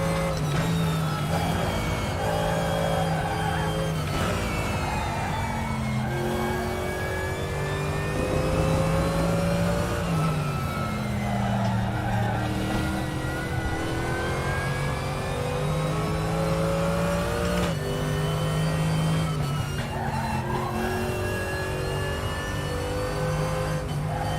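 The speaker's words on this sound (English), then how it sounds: "it's going to be the sound of the Mercedes Evo and not much else" A Mercedes GT3 Evo race car in RaceRoom roars around the Nordschleife, its loud engine note climbing through the gears with sharp shifts and repeated rise-and-fall revving that fills the whole stretch.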